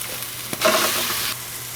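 Onion softening in oil in a pan, a brief close burst of sizzling and stirring that swells after a small knock, then settles back to a low hiss.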